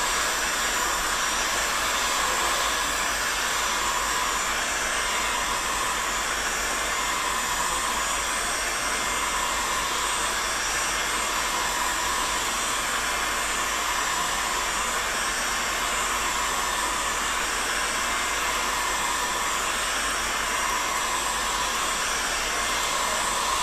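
A heat gun blows hot air onto a pipe while a bow is being built, giving a continuous loud, steady whooshing roar with no pauses.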